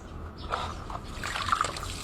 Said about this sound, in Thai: นี่ตักน้ำออกจากตรงนี้จ้ะ